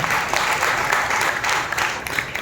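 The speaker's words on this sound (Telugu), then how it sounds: "ప్రభువుకు బిగ్గరగా చప్పట్లు కొట్టి ప్రభువు భయపరచండి." A church congregation at Sunday worship claps loudly and continuously, a dense wash of many hands filling the room with steady applause from start to finish.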